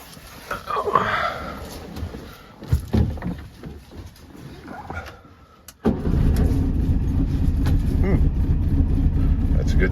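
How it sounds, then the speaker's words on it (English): An old Volkswagen Beetle cranks and fires up about halfway through, then settles into a loud, steady low rumble at idle. A voice speaks over the quieter moments before the engine catches. "Let's see if this bugger will fire on up"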